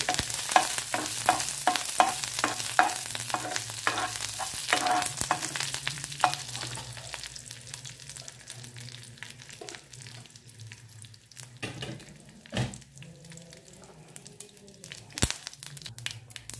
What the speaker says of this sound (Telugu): కొంచెం కరివేపాకు, వేసుకొని వేయించుకుందాం.